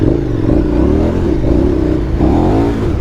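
A KTM 1290 Super Adventure motorcycle engine revs hard and loud while riding off-road on mountain bike single track, its pitch rising and falling with the throttle as the bike surges along.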